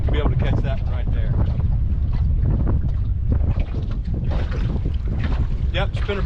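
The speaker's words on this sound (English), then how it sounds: "The west wind." A west wind blows steadily across the water during a bass fishing trip from a boat, buffeting the microphone in a constant gusty roar, with indistinct voices under it.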